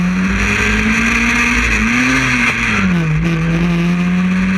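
Historic Formula Ford single-seaters race at Croft Nostalgia Festival, a loud close engine note holding and dipping through a corner with a second car audible beneath, continuous throughout.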